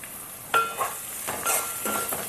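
Onions frying in a pan for an eggplant and dried fish curry, a steady sizzle broken by a few scraping stirs, close and fairly loud, no talking.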